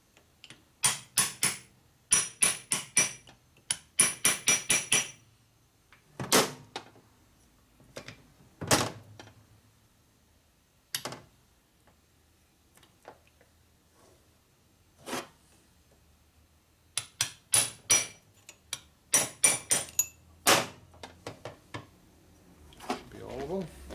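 A chisel is struck with a hammer against a locked gear on a 1976 Harley shovelhead 4-speed transmission, giving rapid clusters of sharp metallic knocks separated by pauses, with someone talking in between.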